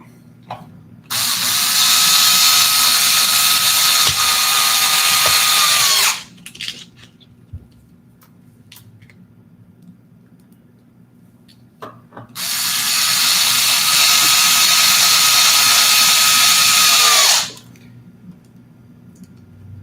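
An electric screwdriver drives small M2.5 screws in two long, loud whirring bursts of about five seconds each, separated by a quiet pause with faint clicks and handling noise, close up and with no talking.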